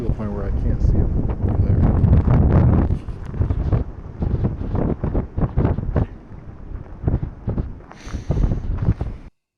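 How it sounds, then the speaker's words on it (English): Strong wind buffets the microphone in heavy, gusty roars, loudest at first and then coming in ragged bursts before stopping. "It's real windy out there. Like, real windy."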